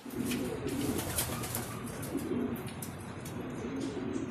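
Racing pigeons back at the loft after a race lap, cooing steadily and close by in a continuous soft murmur, with faint chirps and a brief flutter of wings.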